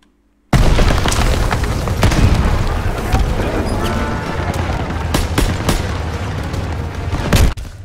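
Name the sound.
gunfire and explosions in Call of Duty WWII video game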